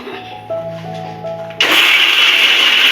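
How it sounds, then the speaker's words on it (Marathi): Grated coconut being ground coarsely in a mixer grinder: after a quieter humming stretch, the motor kicks in abruptly into a loud, steady, close whirring roar that fills the rest of the clip. "आईनी आता मिक्सरला तो वाटून घेऊया"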